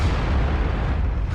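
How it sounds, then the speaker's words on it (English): Artillery shells landing around an AMX 13 75 scout tank in World of Tanks, a loud, continuous rumbling blast with heavy low-end roar, close and sustained. "Plus, then you get the artillery shells landing around you."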